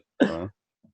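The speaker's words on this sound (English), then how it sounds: "I had to cough." A single short, close cough, a sharp burst fading quickly, followed by a faint small sound in otherwise quiet surroundings.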